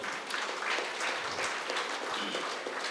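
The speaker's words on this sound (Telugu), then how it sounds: "వాళ్ళందరూ ఒకసారి గట్టి క్లాప్స్ కొడదాం." An audience at a spiritual gathering in a meditation hall claps together in a moderate, even burst of applause, heard at some distance and lasting throughout with no voices on top.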